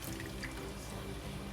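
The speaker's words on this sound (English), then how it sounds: "You're going to take the sauce mixture that you just mixed up, and you're going to go ahead and pour that over." Sauce mixture is poured over meat in an Instant Pot, giving a steady, close liquid pour with a soft trickling wash and no talking.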